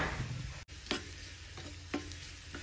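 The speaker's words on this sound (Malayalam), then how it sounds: "ഇതാ നമ്മുടെ ഈ വെളുത്തുള്ളി നല്ലോണം മൂത്ത് വന്നിട്ടുണ്ട്" Garlic fries in hot oil for a curd dish, a steady close sizzle with a few stirring scrapes and taps of a utensil against the pan.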